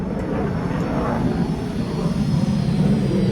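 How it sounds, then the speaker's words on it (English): An airplane passes overhead in Train Sim World 2 as a broad, steady engine roar near the Brighton Main Line. The sound holds loud and constant throughout, with faint speech underneath. "Oh, there's the plane."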